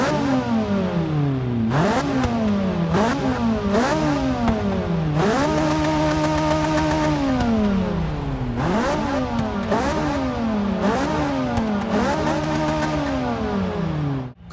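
Naturally aspirated Ferrari 458 Italia V8 in Forza Motorsport 6, revving repeatedly in loud, continuous swells that climb to high pitch and drop back, with a few sustained holds at high revs and no talk.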